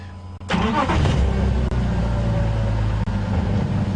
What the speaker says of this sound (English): And I'm going to start the car, Mrs. Hyena.